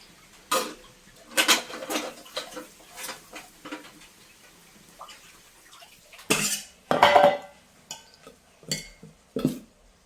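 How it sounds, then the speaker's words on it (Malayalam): Metal idli steamer pot and its vessels set down on a stove in a home kitchen, a few sharp clanks and scrapes of metal cookware in separate bursts, near and fairly loud, with no talk. "ഇഡ്ഡലി ഉണ്ടാക്കി ഇഡ്ഡലി പാത്രം വയ്ക്കാം"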